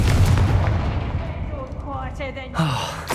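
A Confringo blasting spell explodes in Hogwarts Legacy with a heavy, booming blast up close that rumbles away. Magical whooshing effects and a short vocal gasp follow it.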